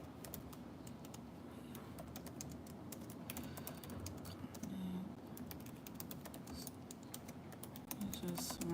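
Keys clatter on a computer keyboard in quick, irregular bursts, fairly faint and close, over a low background hum.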